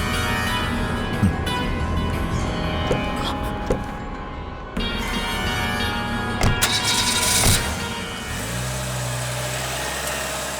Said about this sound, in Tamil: நீங்க வண்டி எடுங்க.